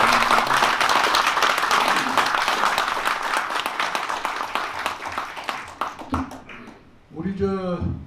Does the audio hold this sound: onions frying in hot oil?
no